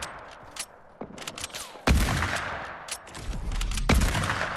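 Sniper rifle no-scope shots in a video game, several sharp loud cracks spaced irregularly across a few seconds, each with a short booming tail, over fainter background clicks and game noise.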